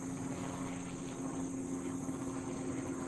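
A news helicopter hovers overhead during a live manhunt search, giving a steady, distant rotor drone with a faint tonal hum that holds unbroken throughout.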